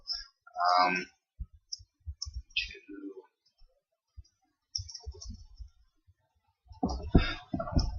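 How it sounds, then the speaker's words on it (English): A computer mouse clicking through Windows restore point setup, giving sparse single clicks scattered among pauses, close to the microphone, while a person talks over parts of it. "So I'm going to click Next, and I'm going to name it."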